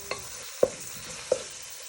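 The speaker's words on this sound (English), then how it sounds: "want to give it a good stir for a few minutes so your mince go nice and brown" Minced beef browning in a pan for scouse, stirred with a wooden spoon: three distinct scraping knocks spaced through a quiet steady background sizzle, close and moderately loud.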